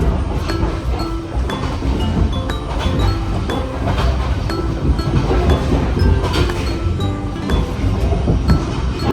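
Interior of a train cabin in motion around Da Nang, Vietnam, with a constant loud rumble, rhythmic rattling and small clinks, and a voice faintly audible.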